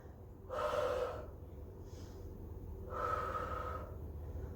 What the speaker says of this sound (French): On expire en dos rond, on inspire en dos plat.